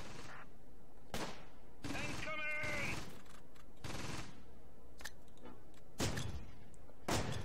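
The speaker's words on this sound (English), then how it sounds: "Right, so they're firing grenades at us." Grenades fired at troops in the WWII strategy game Close Combat: Gateway to Caen: several sharp, sudden blasts and thumps at irregular intervals over steady battle noise, with a brief mechanical rattle and background voices.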